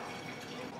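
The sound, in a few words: water filling a moka pot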